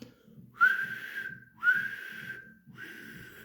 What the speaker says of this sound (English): Whistled Henry.